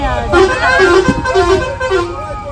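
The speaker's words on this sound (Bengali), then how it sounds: "ফাইনালি আমরা এখন বাসে উঠে গেছি।" Interior of a moving bus, with engine rumble beneath close voices and a sustained horn-like tone that rises and fades over a couple of seconds.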